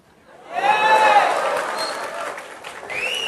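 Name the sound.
audience applause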